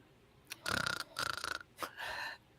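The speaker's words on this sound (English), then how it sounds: "He's snoring." A person snoring in a few loud, ragged bursts with rough breathy rattles and short gaps between them, heard close and alone.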